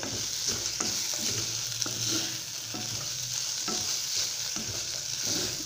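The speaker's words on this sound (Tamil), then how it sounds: "நல்லா கிளறி விடுங்க" Mint chutney ingredients frying and crackling in a pan while a spoon stirs them, steady close sizzle with repeated scraping strokes throughout, no voices.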